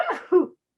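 A single quick sneeze in two close bursts, nearby and fairly loud in a quiet room during a fly-tying session, followed by silence.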